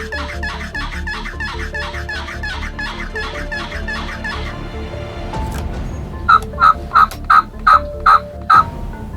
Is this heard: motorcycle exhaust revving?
no